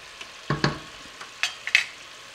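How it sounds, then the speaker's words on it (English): White rice noodles for pancit bihon are dropped into a pan with already cooked pork, giving a few short, close bursts of crackling sizzle and stirring over quiet background. "So my pork is already cooked. We can start adding the noodles."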